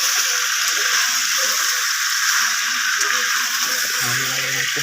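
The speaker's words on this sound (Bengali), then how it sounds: "তারপর আরও 5 মিনিট কষাতে থাকবো।" Chicken curry sizzling steadily in a pan while being sautéed, a continuous bright frying hiss at even volume with faint low clatter beneath.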